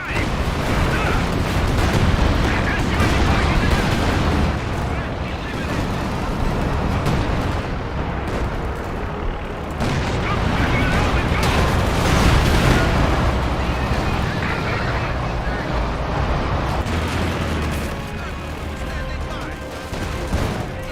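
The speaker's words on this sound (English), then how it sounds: "They're shooting at our Su-85!" Battlefield gunfire in a tank combat video game rattles continuously around a Su-85 tank, dense overlapping shots and blasts with voices talking over the din.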